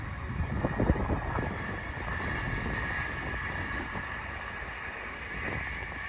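A train heading toward Edinburgh runs along the coast near Berwick, heard outdoors as a continuous distant rumble under steady wind noise, with no one talking.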